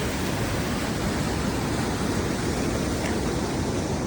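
A small river rushes steadily past, a dense broadband wash of flowing water that holds level and loud from start to end with no voices.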